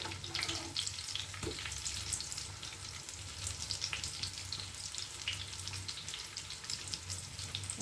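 Maggi noodles with eggs and vegetables fry in a pan, a steady close sizzle with a crackling hiss running throughout, plus a low background hum and faint clinks.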